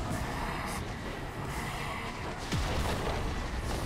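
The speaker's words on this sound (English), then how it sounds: "Blue team's turret has been destroyed." A turret being destroyed in League of Legends during a mid-lane match, a dense, sustained booming rumble with crashing bursts that fills the whole moment at steady loudness.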